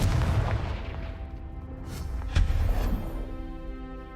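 A Confringo fire spell explodes in Hogwarts Legacy, a deep booming blast with a sharp burst near the middle over a continuous low rumble of game sound.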